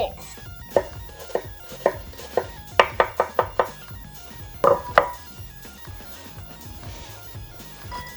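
A knife chops an onion on a cutting board in a home kitchen, with crisp, close knocks. They come in irregular runs, including a quick burst of about five strikes in the middle, with pauses between.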